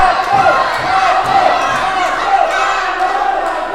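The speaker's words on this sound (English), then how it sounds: "John, it's hard to hear you over the deafening roar of this crowd." A packed crowd roars steadily at a staged stunt fight club event, a loud, dense wash of cheering and shouting that never lets up, with voices mixed in throughout.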